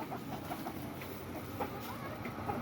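Backyard chickens kept cooped up cluck softly and steadily at close range over a continuous low background hum.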